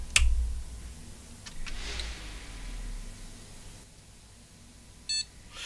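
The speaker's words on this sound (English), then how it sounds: "it beeped quickly" A computer gives one short quick beep near the end while starting up after repair work on a GTX 1060 graphics card with an intermittent memory fault, preceded by faint clicks and low hum.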